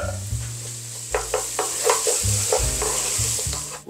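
Chilli peppers sizzle in a frying pan as a spoon stirs them, producing a close, steady hiss broken by several quick scraping strokes against the pan, with a low hum beneath.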